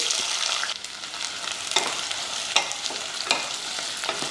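Whole cinnamon, cardamom and cloves fry in hot oil inside a pressure cooker, giving a steady bright sizzle throughout with a few sharper crackles and pops standing out, close and continuous with no one talking.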